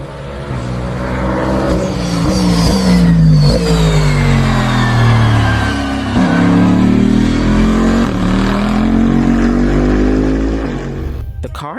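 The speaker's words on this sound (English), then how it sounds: "The GR-GT3 has an eye-catching side exhaust. This design not only makes the V8 engine sound more powerful" Lexus GR GT3 race car with a V8 engine and side exhaust, revving loud and close in long rising and falling sweeps, then cutting off abruptly.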